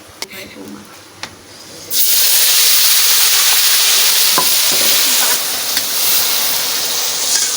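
Ginger, garlic and onion paste hits a hot pan after a couple of light clicks, bursting into a loud, steady hissing sizzle that keeps going close up, with a voice faintly underneath.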